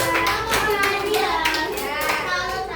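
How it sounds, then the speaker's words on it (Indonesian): A sixth-grade class claps for group 2, a rhythmic, patterned clapping in repeated bursts, with children's voices mixed in throughout. "tepuk tangan dulu kelompok 2 ya."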